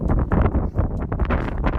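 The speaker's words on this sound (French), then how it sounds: "le vent il passe en rafale sur toutes les voitures" Wind gusts buffet a microphone near a one-way street where cars pass, making loud, rough, fluttering bursts in close succession with no clear voice.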